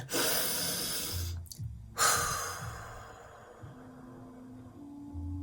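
A slow, deep breath drawn in and let out in a quiet indoor setting, a soft airy sigh with a brief pause, followed by a low hum in the background.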